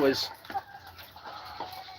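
Chickens in a farm barn cluck in short scattered bursts, a few close and fairly clear, over a low room murmur with some faint background noise.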